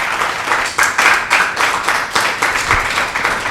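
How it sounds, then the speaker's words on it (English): An audience claps for a contestant at a children's quiz competition, steady rhythmic applause with pulsing swells that carries on for several seconds. "Clap for her, please."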